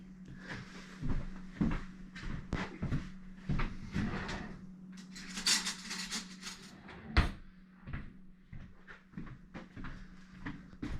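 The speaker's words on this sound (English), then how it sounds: "we're going to spoon a little bit into each one" Spoon clinks and scrapes against a dish while deer heart pie filling is portioned out, giving a run of close, irregular knocks and clatters over a steady low hum.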